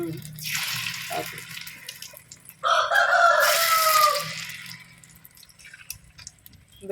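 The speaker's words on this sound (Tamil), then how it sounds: "இப்போ மாவு ஊற்ற போகிறாங்க ஆ அப்படி சவுண்டு கேட்கணும்" Kuzhi paniyaram batter poured into a soapstone paniyaram pan over a wood stove bursts into a loud, steady sizzle for about a second and a half, then fades back to a quieter crackle, with a rooster crowing faintly nearby.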